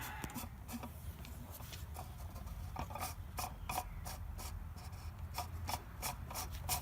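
A plastic oil filter cap on a Chrysler 300 is screwed back down by hand, producing a close, continuous gritty rubbing and rasping with rhythmic ratcheting scrapes as it turns on its threads.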